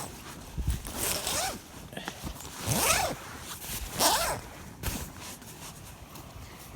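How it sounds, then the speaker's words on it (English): A Coleman Big Basin sleeping bag zipper being unzipped in several close, rasping pulls of about a second each, with brief pauses between strokes. "let me zip it open"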